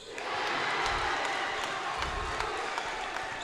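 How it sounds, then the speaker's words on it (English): Crowd roaring and cheering in a gym at a high school boys basketball game, a loud sustained swell of voices with thumping sounds underneath. "Crowd comes alive."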